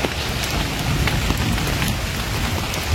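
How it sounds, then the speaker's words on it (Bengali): Gentle rain falls steadily on tree leaves, a soft, even hiss of drops at close range with no voices. "সুন্দর ধীরে ধীরে বৃষ্টি হচ্ছে"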